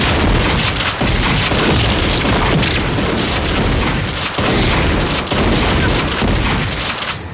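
Booming gunfire from the late-1990s horror film Phantoms: loud, cannon-like shots in rapid, overlapping bursts with a few brief gaps, mixed heavy and close throughout.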